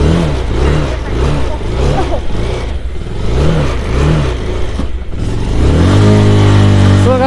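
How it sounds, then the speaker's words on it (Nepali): A Royal Enfield Bullet motorcycle that is hard to start in cold weather revs in a series of rising and falling surges up close, then settles into a loud, steady engine drone. "बाइक स्टार्ट हुनै गाह्रो मानिराखेको अब।"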